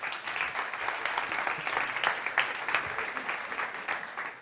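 Audience applause at a startup competition stage event in Spain's South Summit, a sustained dense clapping crowd, steady and fairly loud throughout without speech.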